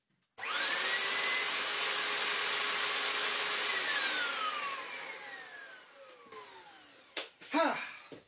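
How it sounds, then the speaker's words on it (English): An Oreck XL U2645 upright vacuum motor, wired backwards, whines loudly and steadily with a high rising tone, then winds down in a long falling pitch before faint clunks and handling noises. "wiring this motor up backwards and putting all the voltage through it the wrong way"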